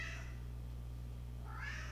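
A cat meows twice, one call fading out at the start and a rising call near the end, over a steady electrical hum with no speech.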